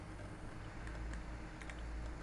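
Keys clicking on a computer keyboard while entering a value in Rhino 3D modeling software, a few faint taps scattered over a steady background hum.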